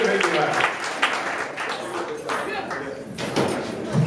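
A comedy club crowd claps for a stand-up comedian, a scattered burst of applause and cheering mixed with someone speaking loudly over it.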